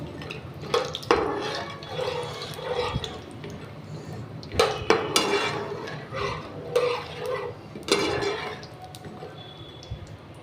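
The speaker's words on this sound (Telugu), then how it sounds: "ఇప్పుడు నేను ఫస్ట్ అయితే పల్లీలు వేపుకుంటానండి" Peanuts fry in hot oil in a pan for mango pulihora, giving a soft continuous sizzle with scattered clinks and scrapes of stirring against metal.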